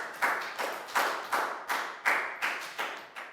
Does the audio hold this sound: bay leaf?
no